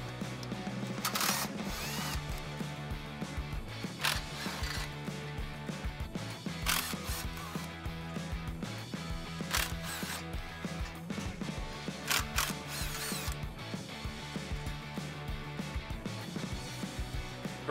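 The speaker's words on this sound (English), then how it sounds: "We're gonna go around and remove the six bolts that hold the clutch in place." A ratchet with a 13 mm socket loosens the clutch pressure plate bolts on a 1999–2004 Mustang GT, repeated bursts of close clicking with brief pauses between, running under background music.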